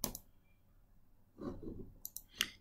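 A few small, crisp mouse clicks as an export button is pressed in software, sharp and close, separated by quiet gaps with faint handling noise between them.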